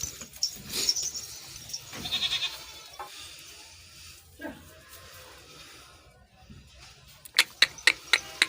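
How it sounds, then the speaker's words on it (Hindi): A Kamori goat at a livestock market bleats a few times near the listener, mixed with faint background voices, followed by a quick run of short clicking sounds. "ये मेरे पास बकरी है कामुरी"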